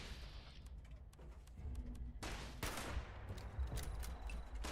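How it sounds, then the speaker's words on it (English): Bursts of gunfire from hostile protectron robots in Fallout 76, sharp rapid shots and rattling volleys crowding together, with a louder, denser stretch in the second half. "A hostile protectron, I might add. It is shooting something."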